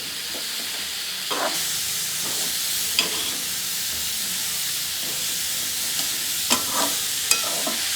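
Coconut and jaggery modak filling stirred in a pan over a gas flame: a steady close sizzle and hiss, with scattered scraping spoon strokes and a few sharper clinks, no voices.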